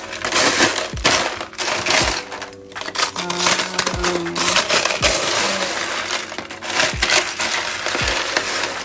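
Ice cubes tumbling from the automatic ice maker of a Mitsubishi Electric MR-B46F refrigerator, a busy run of hard clattering knocks and cracks spread across several seconds, close and fairly loud.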